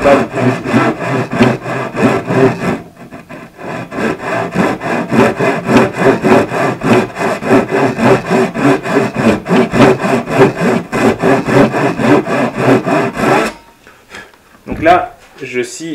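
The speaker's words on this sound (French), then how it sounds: "je scie légèrement en biais pour suivre mon trait" Steady back-and-forth rasp of a hand saw cutting through wood at a slight angle along a marked line, rhythmic strokes close up, pausing briefly before resuming, then stopping near the end.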